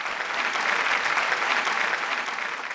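An audience at a conclave applauding: a short burst of steady, full crowd clapping that holds evenly and fades slightly at the end.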